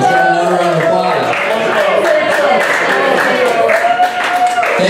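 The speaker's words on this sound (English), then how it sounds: "Let's have another round of applause." Audience applause and crowd noise fill a battle of the bands show between TKO and Notes From Neptune, a steady wash of clapping mixed with voices and tonal sound throughout.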